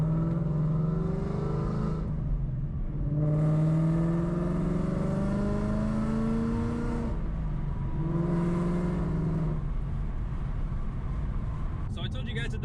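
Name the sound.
1000HP Dodge Hellcat engine revving while driving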